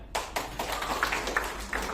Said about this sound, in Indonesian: Oke, tepuk tangan untuk Amel.